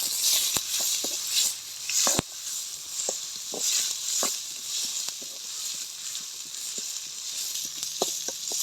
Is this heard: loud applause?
no